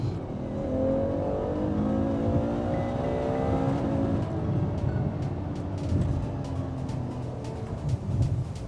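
A Ferrari F12 V12 supercar engine drones close by, its pitch climbing then easing off in a long sustained whine over steady road rumble, with a few faint clicks near the end.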